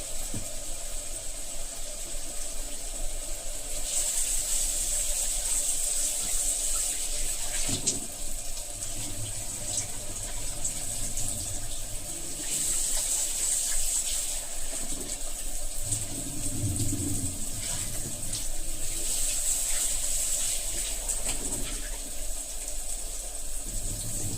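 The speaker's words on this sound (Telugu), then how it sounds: "ఇప్పుడు ఈలోపు మటన్ కడుక్కుందాం." Mutton is washed under a running tap in a kitchen. Water flows steadily and loudly for the whole stretch, with splashing that shifts now and then as the meat is moved about, and no talking.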